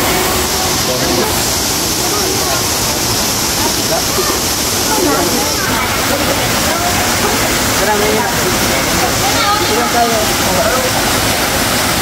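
Tanawan Falls, a shallow waterfall, pours as a loud, unbroken rushing roar of water close by, with people talking over it throughout.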